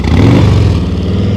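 A motorcycle engine runs close by during slow-speed riding practice, with the throttle opening into a brief rising rev and then easing back, a steady loud mid-range drone throughout.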